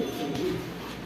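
Pigeons coo at a pigeon farm, a single soft, low, rolling coo close by and moderately quiet.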